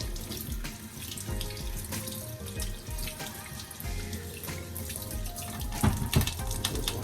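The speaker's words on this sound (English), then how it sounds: "Just want to make sure you rub them. Get off all those dirt and the debris that's on it." Ginger being rubbed clean under a running kitchen tap, a steady close rush of water splashing into a sink with small knocks and shifts of the flow as the root is handled.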